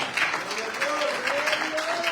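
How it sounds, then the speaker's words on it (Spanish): A church congregation gives an offering of applause to the King of Kings, a brisk wash of many hands clapping at moderate volume, with a sustained tone running faintly beneath it. "Denle una ofrenda de palmas al Rey de Reyes, hermano"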